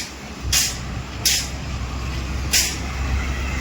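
A truck pulls up with three sharp, loud hisses of its air brakes at irregular intervals over a low rumbling engine.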